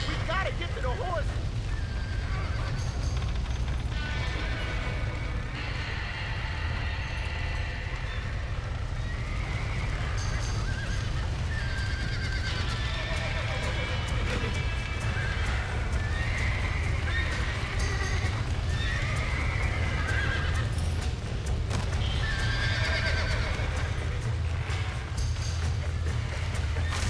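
Horses whinny and neigh repeatedly over galloping hoofbeats in the Western video game Red Dead Redemption, with voices shouting amid the commotion.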